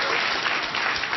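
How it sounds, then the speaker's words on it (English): Studio audience at a late-night comedy monologue claps loudly in a brief, dense burst of applause. "I don't know why you're clapping"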